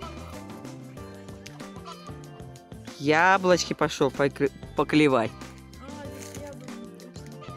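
Chickens squawk and cluck loudly in a burst of agitated calls in the middle, amid a farmyard on a hot July day, with people talking nearby before and after.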